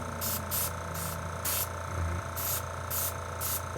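Short bursts of airbrush paint spraying onto a figure while painting skin tones, about seven brief hissing pulses in a steady rhythm over a constant low background hum.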